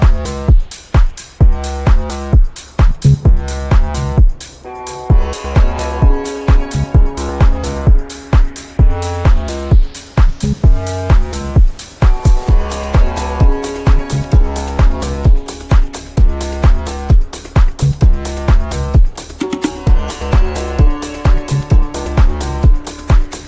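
Tech house bass line in a full electronic track, with a thumping four-on-the-floor kick, pulsing low bass notes, rising risers and automated sweeps, loud and continuous throughout with no talking.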